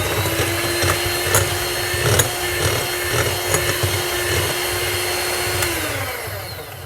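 Egg yolks being mixed into strawberry cake batter, heard as a loud, steady mechanical whir that runs throughout and tapers slightly at the end.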